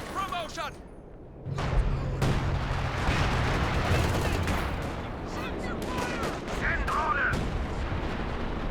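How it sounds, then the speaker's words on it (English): Heavy mortar shells exploding in the Company of Heroes 2 battle game, booming blasts and rumbling gunfire in dense succession beneath steady commentary talk. "that was a heavy mortar shell"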